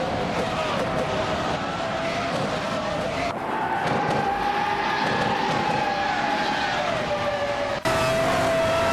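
Race cars scream around a track with sustained engine whine shifting in pitch as the pack runs nose to tail, loud and continuous, a voice talking over the roar.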